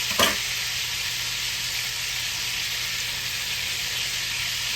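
Pork chops browning in a hot pan give a loud, steady sizzle and hiss that carries evenly throughout, with a brief clatter at the start.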